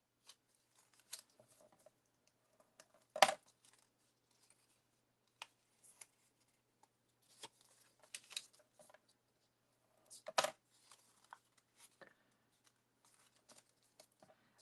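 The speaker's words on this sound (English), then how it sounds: "little mountain folds on all of these ones, and I'm using a bone folder to crease them" A bone folder creases small paper die cuts into mountain folds on a craft table, giving soft, sparse scraping and tapping strokes at irregular intervals, with a few sharper snaps standing out from near silence.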